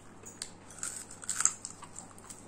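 Crisp bites into fried Thai pork belly: several sharp crunchy snaps close up, clustered in the middle and otherwise quiet.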